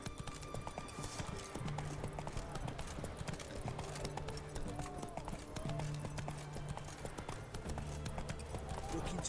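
Roach, the horse in The Witcher 3, gallops with steady, rapid clip-clopping hoofbeats that continue throughout over a bed of game ambience and music.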